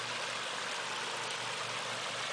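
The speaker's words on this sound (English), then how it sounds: "So you know it's not real waterfall, but it's pretty damn close." An artificial garden waterfall in a house's landscaping, its steady broadband rush of running water filling the air with no break, close and even throughout.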